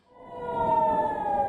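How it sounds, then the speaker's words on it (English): Air raid siren in Haifa, northern Israel: a wailing civil-defense tone that swells in loudness over the first half second and then holds a steady, slightly wavering pitch, heard from a distance outdoors. "air raid sirens early Sunday morning sent residents scurrying toward bomb shelters"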